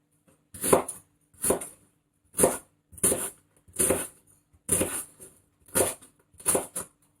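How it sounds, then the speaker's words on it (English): A knife chops an onion steadily on a cutting board, about nine sharp knocks in an even rhythm, close and clear with no talking. "a really quick and easy way to chop an onion and cube it"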